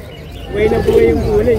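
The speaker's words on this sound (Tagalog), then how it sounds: "Ang laking kalapate." A pigeon coos close by in a low, soft, rolling call.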